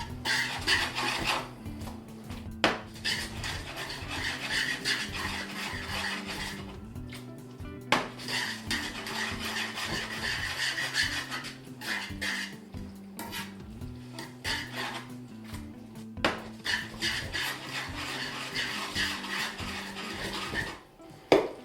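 Tuna pasta is spun and tossed in a pan with its sauce, giving continuous close scraping, clattering and sloshing of metal cookware with sharper knocks every few seconds, and no voices.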